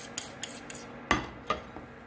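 A utensil clinks and scrapes against a bowl while sandwich bread ingredients are mixed together. A few light taps come first, then two sharper knocks, all close and fairly quiet with no talking.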